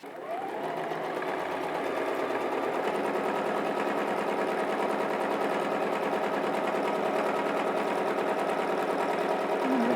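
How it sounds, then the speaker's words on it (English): A sewing machine stitches stippling on an Olaf Frozen quilt panel, running in one steady, continuous, loud hum from start to finish with no pauses. "As you can see, I'm quilting this stippling basically straight up in a row."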